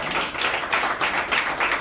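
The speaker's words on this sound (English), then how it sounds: "Let's just give a round of applause for bringing everyone together." Audience at a live event in Queenstown claps together, a steady dense patter of many hands at moderate distance, with no voices over it.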